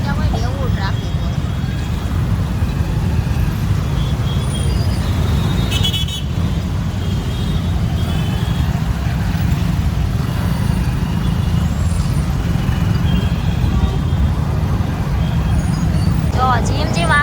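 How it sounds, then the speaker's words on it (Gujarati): Busy road traffic in Surat, with a steady rumble of cars, trucks and buses, scattered horn toots and a hiss like an air brake, loud and continuous, with people talking over it. "જોઈ લો અમારા સુરતનો ટ્રાફિક."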